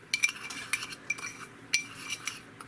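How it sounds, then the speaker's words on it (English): A spoon stirring a homemade hickory or mesquite smoked salt seasoning mix in a dish, giving a series of light, irregular clinks and scrapes close by. "now, we're going to sit there and go and stir everything up like this"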